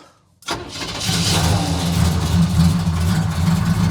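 A 1975 Chevrolet El Camino V8 that had sat unused for over ten years cranks briefly, catches and roars into a loud, steady, rumbling idle close by.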